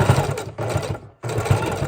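A sewing machine stitches through a homemade mini journal in two quick close bursts of rapid mechanical clatter, separated by a brief pause.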